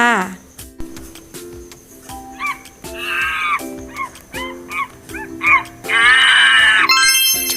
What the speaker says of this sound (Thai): ต้องแล้วค่ะ เสียงของลิงค่ะ